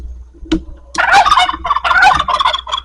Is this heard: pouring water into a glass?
no